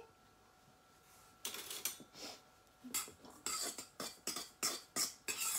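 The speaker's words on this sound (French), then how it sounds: "Je vais remuer." A utensil scrapes and clinks against a bowl in a steady run of strokes, stirring the dry ingredients for a gluten-free keto brioche, close and fairly quiet after a short lull.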